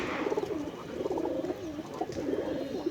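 A female pigeon coos in soft, rolling low phrases that repeat steadily through the moment, close by and fairly clear, with no one talking.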